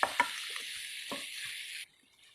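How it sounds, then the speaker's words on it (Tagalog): Butter shrimp sizzles steadily in a hot pan while being stirred, a bright continuous frying hiss with a few utensil knocks before it cuts off abruptly. "At haluin ng mabuti."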